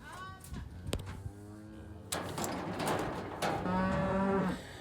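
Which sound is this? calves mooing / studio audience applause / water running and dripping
calves mooing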